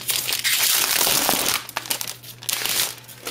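Thin transparent plastic film is peeled off the packaging of an Apple keyboard, producing close, loud crinkling and crackling that rises and falls in bursts over a few seconds.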